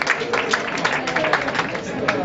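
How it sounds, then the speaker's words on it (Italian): A theatre crowd applauds Giancarlo Giannini during an aperitivo event in Messina, producing dense, continuous clapping with a few louder claps poking out, fairly close and steady throughout. "un applauso per Giancarlo"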